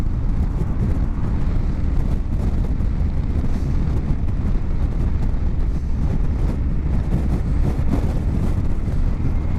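Kawasaki GTR 1400 motorcycle accelerating in fourth gear from about 30 mph, a loud steady engine roar mixed with heavy wind buffeting across the whole stretch.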